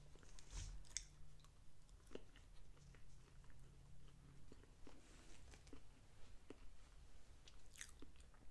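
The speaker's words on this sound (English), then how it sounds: "I'm just eating the biscuit now to see how it tastes by itself." Someone chews and bites into a Chick-fil-A biscuit up close in a quiet room. Soft, moist chewing and occasional crisp bites repeat at an irregular pace, and there is no talking.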